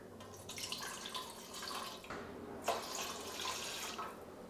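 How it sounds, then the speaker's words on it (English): Glasses of water poured into a stainless steel cat fountain make a steady splashing, trickling stream, continuous for several seconds with a short pause partway, near and moderately loud, with no talking. "So I'm just gonna go ahead and fill it up with a few glasses of water."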